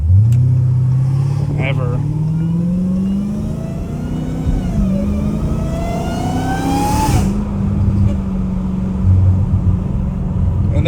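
Dodge Challenger Hellcat Redeye engine revving, the loud V8 rising and falling in pitch with a high supercharger whine climbing over it, close by, while someone talks over the sound.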